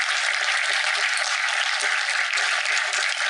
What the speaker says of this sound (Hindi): आईवी फाउंडेशन और सभी ऑर्गेनाइजर्स के लिए खूब तालियां